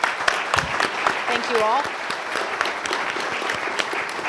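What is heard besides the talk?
audience applause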